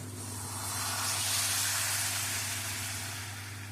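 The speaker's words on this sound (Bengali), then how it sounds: "এখন পরিমাণ মতো গরম জল দিয়ে দেব" Hot water pours into a simmering curry in a pan, giving a steady hissing splash with a low hum underneath, close and moderately loud, with no talk.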